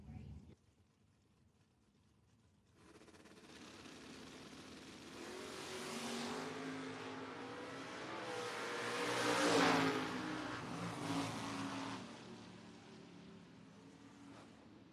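Two drag race cars, a Chevrolet Vega and a Chevrolet Camaro, roar off the line at a drag strip. The engine noise starts abruptly and swells to a loud peak, then fades into the distance.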